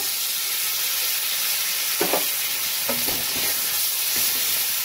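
Spices with tomato, turmeric, cumin, chili powder and ginger-garlic paste fry in a pan, a loud steady sizzle with several clustered spatula scrapes and knocks in the second half.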